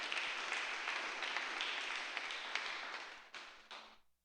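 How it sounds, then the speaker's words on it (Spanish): A church congregation applauds steadily at a Spanish-language sermon, a dense mass of clapping that holds for about four seconds and then stops abruptly. "Dale una ofrenda de palmas a nuestro gran Rey de Reyes"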